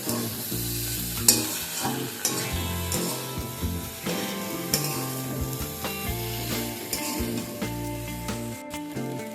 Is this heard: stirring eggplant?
yes